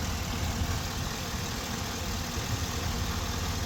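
A GM L92 V8 running at a raised, high idle in a Yukon, Escalade or Tahoe, a steady low rumble with an even, unchanging drone that is loud and close, with no talking.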